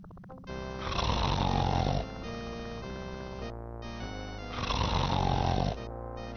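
A sleeping man under a newspaper snores in the Laura Bow 2 adventure game, two long rasping snore cycles with a roaring inhale, loud and close over a steady game music bed.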